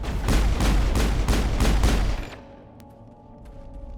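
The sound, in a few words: gunfire with new ammo in Mass Effect video game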